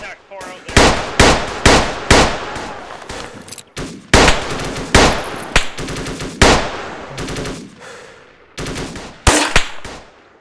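Rapid gunfire in a military shooter game, loud bursts of automatic fire with sharp repeated cracks in clusters, brief pauses between volleys.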